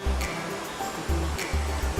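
Water rushes in a continuous broad roar at the Sarang Walet waterfall in Kembang Kuning tourist village, Lombok, with faint intermittent low thumps breaking through the steady wash.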